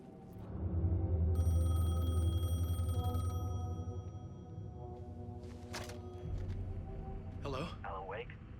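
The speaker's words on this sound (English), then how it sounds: "The payphone was ringing." Payphone ringing inside the video game Alan Wake II, a steady electronic bell tone starting about a second in and holding for a couple of seconds over a low rumbling ambience and game music, with voices briefly heard near the end.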